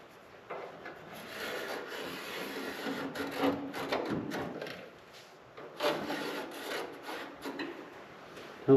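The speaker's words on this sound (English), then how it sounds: "So now I just got to grind this back." Metal being ground back on a 1970 Chevelle convertible during rust repair, a rough abrasive scraping that comes in uneven bursts of varying intensity, with short pauses between passes.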